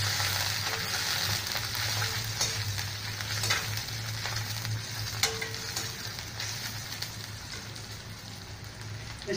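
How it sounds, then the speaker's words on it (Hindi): Cabbage and capsicum stir-frying in a hot pan for chicken triple Schezwan rice, a continuous close sizzle with occasional light scrapes of a spatula and no voices. "इसको भून लेंगे आप"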